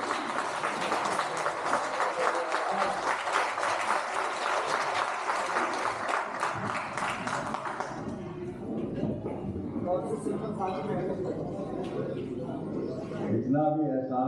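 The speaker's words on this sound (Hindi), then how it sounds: "बहुत जबरदस्त तालियां" A crowd at a medical association reception in Bareilly gives a standing ovation, a thick wash of loud clapping that runs for several seconds before fading under a voice speaking at a microphone.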